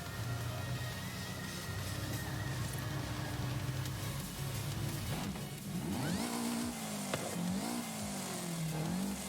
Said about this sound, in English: This engine, I got to admit, it's a unique one. It's a unique sound.